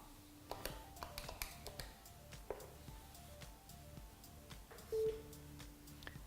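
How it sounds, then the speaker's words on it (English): Polycom desk phone being dialed to place a call, with a run of short key taps and tones followed by a brief steady beep near the end, clear and close with no talking. "place the first phone call."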